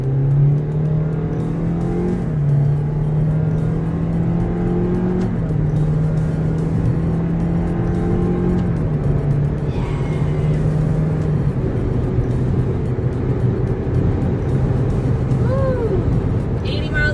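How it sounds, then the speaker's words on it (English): A Toyota Corolla in sport mode accelerates with a steady engine drone that rises in pitch through several gear steps and then settles. People talk and cheer inside the car over the engine. "Sport mode activate. Go, go Corolla, go!"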